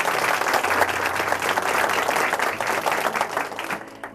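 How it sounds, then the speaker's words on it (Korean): A church audience at a worship service applauds together in sustained, dense clapping that keeps going for a few seconds at steady volume before easing off slightly at the end. "다시 한번 큰 박수 부탁드릴게요"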